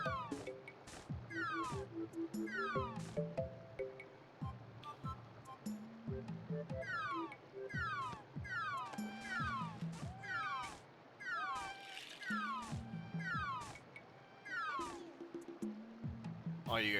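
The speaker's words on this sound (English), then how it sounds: "All you guys are hearing is meow, meow, meow." Cat Pokémon in the video game Pokémon Snap meowing repeatedly in short bursts over game music and ambient water sounds, with a voice talking intermittently.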